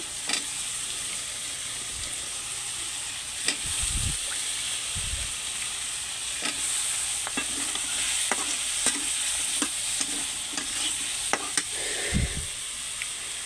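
Taro stems being stirred and fried in a wok, a steady sizzling hiss with repeated scraping thumps and clinks of the spatula against the pan, close and continuous.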